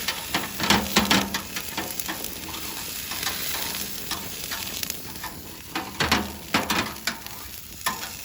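A steak sizzles and crackles on a hot grill while a utensil scrapes and pries at it where it has stuck, a steady loud hiss broken by bursts of scraping, close up.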